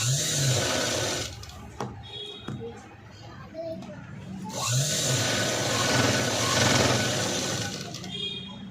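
A sewing machine runs in short bursts as it sews a double stitch on a blouse, with a low buzzing whir that stops and restarts, while a voice and other indoor sounds are heard nearby.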